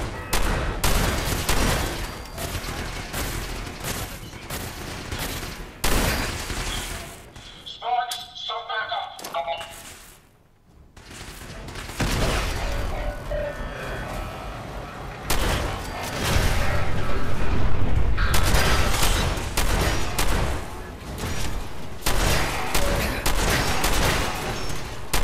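Robot turrets in Fallout 4 fire repeated rapid bursts of gunfire amid battle noise. The shooting is loud and dense and drops out briefly midway before resuming, with voices talking over it.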